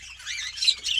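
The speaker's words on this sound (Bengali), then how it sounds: "এই যে বদ্রিগুলো সেল হবে। খুব কালারফুল আর খুব হেলদি পাখি, অ্যাক্টিভ।" Budgerigars in a home colony squawk and chatter in a continuous, shrill, high-pitched stream, close by and fairly loud, with no other sounds.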